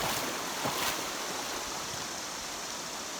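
The Linville River in Linville Gorge rushes past during a crossing, a steady broadband wash of flowing water close by, with a slight surge near the start and no talking.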